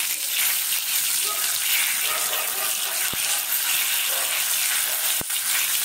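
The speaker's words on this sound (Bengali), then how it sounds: "তেল দিয়েছি, এবারে তেজপাতাটা দিলাম" A bay leaf sizzling in hot oil in a pan, making a loud, steady, close crackling hiss throughout, with a couple of sharp clicks.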